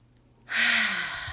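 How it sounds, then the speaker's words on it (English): A single deep, audible breath, a long airy exhale out through the mouth that swells quickly and fades, close and alone in quiet surroundings. "take a deep breath through the nose and exhaling through the mouth"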